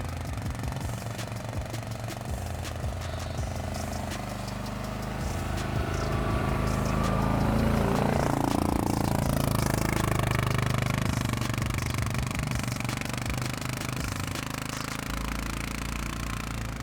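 A Loncin XWolf 700 ATV engine labors through snow in low range with the diff lock on, a rough, rumbling drone that swells louder midway and stays steady, no talk.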